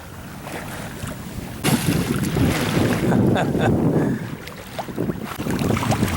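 Sailboat running under sail out in the Gulf off Florida's panhandle coast, steady wind rushing across the microphone with water wash along the hull, louder gusts from partway through, no voices.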